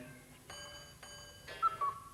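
A singer's voice imitates a hallway pendulum clock's small daytime ticking in front of a concert audience: three soft, evenly spaced tonal pulses, then a brief thin whistle-like note, all very faint.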